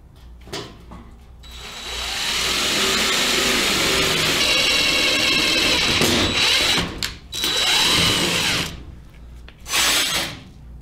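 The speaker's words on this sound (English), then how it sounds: "I just got a self-tapping screw here" A power drill drives a self-tapping screw into metal while building a plasma cutter circle guide: a short whir, then a long steady winding drone with pitch sweeps, brief pauses, and a final burst, close and loud.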